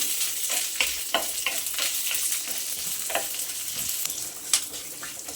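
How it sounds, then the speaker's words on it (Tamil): Grated coconut and a couple of curry leaves sautéing lightly in a pan for a Chettinad crab gravy give a steady close sizzle, with scattered stirring scrapes and small crackles throughout. "ஒரு ரெண்டு கருகாப்பிலையும் போட்டுக்கோங்க லைட்டாக வதக்குனா போதும்"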